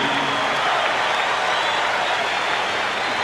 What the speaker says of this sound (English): this crowd is really into this thing. You'd think it's a playoff game.